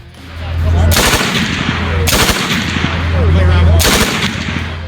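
Three loud bursts of MG5 machine gun fire, each a sharp broadband blast with a deep boom, spaced about a second apart over continuous rumbling reverberation.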